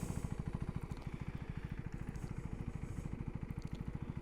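A 2024 Husqvarna Svartpilen 401 motorcycle idles with a steady, even single-cylinder tick-over, a fast low thumping pulse heard close and fairly quiet with no talk over it.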